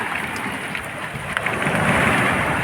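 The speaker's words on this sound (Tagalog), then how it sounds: "Todong ulan." Dense, steady roar of heavy rain during a typhoon, loud and continuous, swelling slightly toward the end with no voices.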